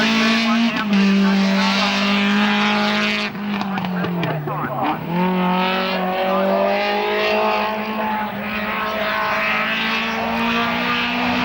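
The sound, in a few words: race car warming up at Collingrove hillclimb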